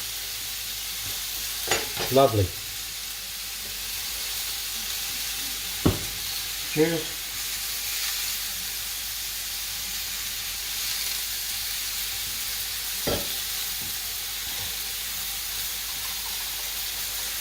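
Pork chops with feta cheese frying in a pan give off a steady, even sizzle throughout, with a few brief voices and light clatters breaking in now and then.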